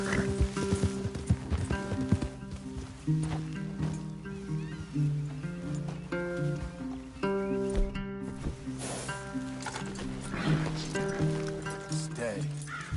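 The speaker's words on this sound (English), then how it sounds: "Leave the horses in the trees there." Horses from Red Dead Redemption 2 walk with steady clip-clop hooves under a music score and occasional talk, with a brief whinny possible.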